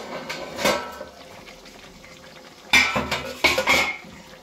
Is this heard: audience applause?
no